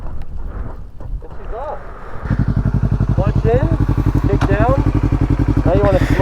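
A motorcycle kick-started to life: after a quiet moment with a voice talking, the engine catches and settles into a loud, close, rhythmic idle while people keep talking over it.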